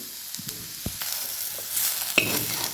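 Radish sizzles gently in a kadhai while it is stirred. Soft frying hiss sits under a few scattered clicks and scrapes from the utensil against the pan.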